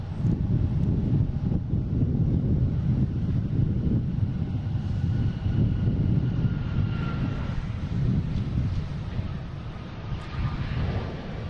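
An Alaska Airlines jet at Boston Logan airport roars steadily and loudly, its broadband engine noise holding across the whole stretch with slight wind buffeting and no talk.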